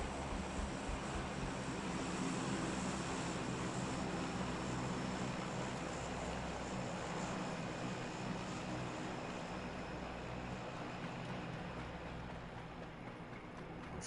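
Glider aircraft engine in the video game PUBG, a steady loud droning propeller hum that holds level throughout and eases slightly at the end, no talk.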